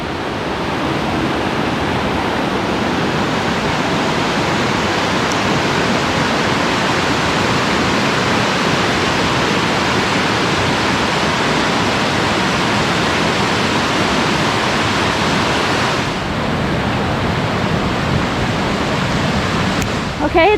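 A dense, constant rush of flowing water fills the whole stretch, steady and fairly close, like a creek running over rocks, with no clear talking; a mountain creek, Bradley Fork, in Great Smoky Mountains National Park.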